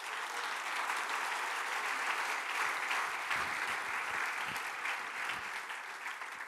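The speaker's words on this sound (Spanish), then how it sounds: "Dale un aplauso fuerte al Señor." Church congregation at a men's event giving strong, sustained applause, dense and even clapping from a large crowd filling the whole stretch without speech.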